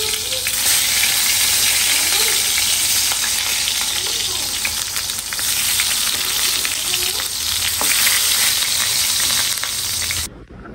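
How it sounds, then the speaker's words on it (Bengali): Eggplant slices fry in a pan of hot oil, giving a loud, steady sizzle close by with occasional stirring scrapes and crackles throughout, alone and with no voices. "এখানে হলো বেগুন ভাজতেছি।"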